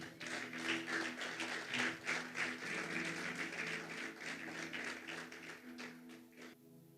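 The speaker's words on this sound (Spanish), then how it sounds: "Dele palmas a Cristo, amén." A church congregation claps steadily in a continuous, fairly faint wash of applause with no talking over it.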